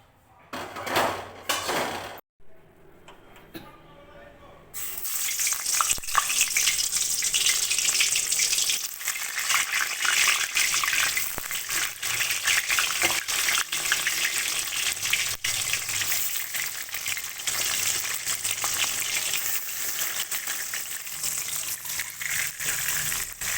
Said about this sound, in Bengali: আজকে খিচুড়িটা না সবজিটা আর চাল ডাল সব একসাথে ভেজে নিচ্ছি